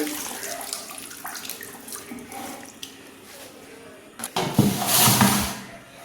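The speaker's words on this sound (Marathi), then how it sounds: "परातीत भाजी काढूया आणि परत एकदा आपण पाण्याने धुवून घेऊया" Wild leafy greens are rinsed in water in a tray, with soft continuous splashing and trickling that swells into a louder, close rush of water near the end.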